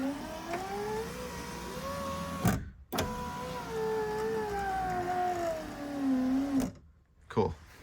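Power window motor in a 1997 Mazda Miata whines steadily with a shifting pitch through several runs, briefly cutting out twice, close and clear with no talking.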